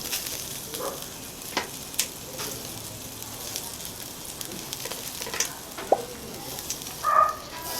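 Chicken sizzles on an outdoor ihaw-ihaw barbecue grill in a steady, crackling hiss, with a few sharp clicks and taps from turning the meat scattered through it.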